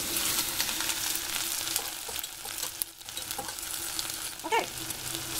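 Food sizzles and fries steadily in hot oil for mac and cheese while a fork stirs it, with a brief scrape of stirring near the end; close and continuous, no talking.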